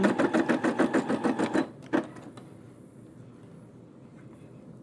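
A Brother SE600 embroidery machine stitches a quilt with a rapid, rhythmic run of mechanical thumps for about a second and a half, then stops abruptly, leaving faint room noise and a single later clack.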